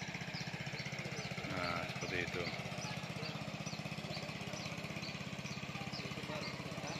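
A small boat's engine, a mesin ces or peletok, putters with a rapid, even chugging beat on a reservoir used for floating-net fish farming, running steadily close by while a voice speaks briefly over it.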